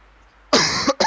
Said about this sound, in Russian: Мой кашель все-таки не соответствует атмосфере этой игры.